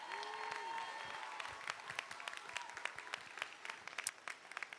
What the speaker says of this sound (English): Let's give a big round of applause to those guys.